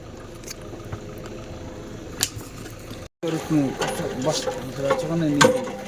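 An old village borewell hand pump is worked, with repeated creaking metallic clanks and ratcheting strokes close by that grow louder and busier after a brief gap, while people talk nearby.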